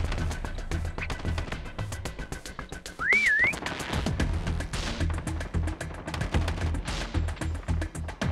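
Prop hunt whistle in Call of Duty: Mobile multiplayer on the Crash map, a single short rising and falling whistle tune cutting through busy game noise of footsteps, taps and thuds.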